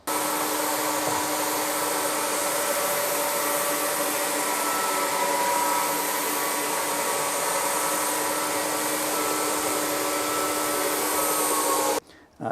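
A Rasp all-in-one floor sander running a fine 80 grit turbo finish disc over a smooth wood floor, a loud steady motor whine with broadband sanding hiss throughout, cutting off abruptly near the end.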